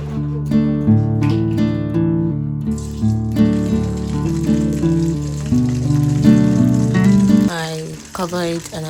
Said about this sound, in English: I check if it is done, then I fry it in a hot oil.